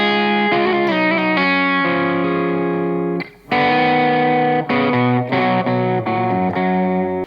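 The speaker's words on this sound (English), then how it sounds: "you get sort of like the bite of distortion, but like the softness and character and warmth of overdrive" Electric guitar played through combined distortion and overdrive pedals, loud sustained chords and riffs with a gritty, saturated tone, one brief pause midway before strumming resumes alone.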